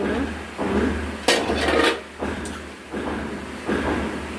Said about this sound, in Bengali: এবার আমরা ঢাকনা খুলে দিয়ে